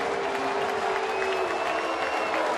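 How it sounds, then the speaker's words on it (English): A baseball stadium crowd at a Pirates versus Reds game applauds in a sustained wash of clapping and murmuring cheers, with a faint steady tone running underneath. "Clinton will get a big round of applause for sticking up for his player."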